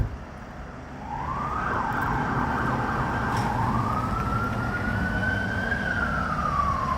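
A police siren sounds as cops arrive at a motorcycle crash scene on a Los Angeles street at night. A single wail rises and falls at moderate distance over a low traffic rumble.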